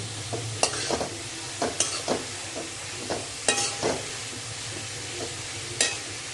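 Green onions are stir-fried in a pan for spring rolls, giving a faint sizzle under a series of scraping, tapping stirs of the spatula.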